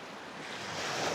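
Ocean surf rolls ashore at Kalamaki beach on Zakynthos, Greece, a steady broadband wash that swells slightly louder toward the end, with some wind buffeting the microphone and no voices.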